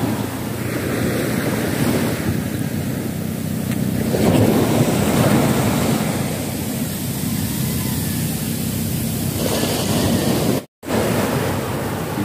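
Sea waves wash onto the shore at Nasugbu, Batangas, as a steady, loud surf roar mixed with gusting wind, continuous and without speech apart from a brief dropout near the end.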